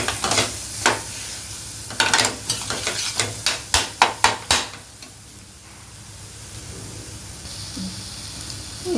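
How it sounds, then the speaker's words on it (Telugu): Onion-chili paste fries in a pan: a series of sharp stirring scrapes and clacks, the middle ones in a quick rhythm, over a soft steady sizzle that carries on alone toward the end. "ఇదిగోండి, 1 నిమిషం వేగిందండి ఉల్లికారము."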